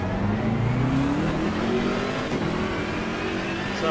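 A race car engine in a racing video game hums steadily as the car rolls out onto the track, the tone shifting gently through gears at a constant moderate loudness.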